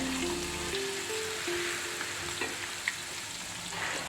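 Butter garlic chicken fries in a pan, a dense, steady sizzle and crackle heard close, with faint scraping of a utensil now and then.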